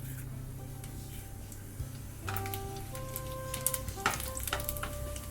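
Fennel seeds dropped into a hot pan for a Kerala-style mutton roast start crackling and sizzling about halfway through, a close, steady frying hiss with scattered pops over a low background hum.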